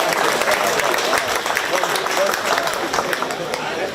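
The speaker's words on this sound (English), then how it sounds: "Give these three individuals a round of applause with their Duroc Market Hogs." Crowd applause breaks out in a county fair 4-H swine show arena after a purebred Duroc market hog class, a steady dense clapping that fills the whole four seconds with general crowd noise.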